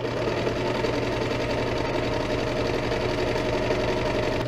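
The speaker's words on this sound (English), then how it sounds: "When I start off my serger, I like to take a little scrap, make sure that I've got my tension right." Serger sewing machine stitching a fabric scrap to test tension before sewing a mask and medical gown; a steady, close, continuous mechanical whir with rapid stitching chatter and no talk, running evenly throughout.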